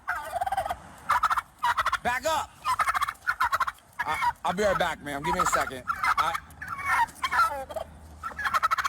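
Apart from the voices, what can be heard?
turkeys gobbling and chickens attacking a police officer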